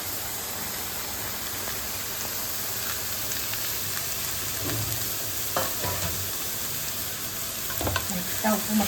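Chopped onion and beetroot fry in a pan, a continuous hissing sizzle with occasional stirring knocks and scrapes near the end.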